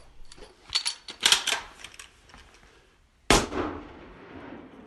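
Rifle gunshots at an outdoor shooting test in Svalbard, fired by a left-handed shooter using a right-handed rifle: several sharp cracks in quick succession, then a pause and one loud, close blast trailing into a long ringing echo.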